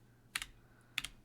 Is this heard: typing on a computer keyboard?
yes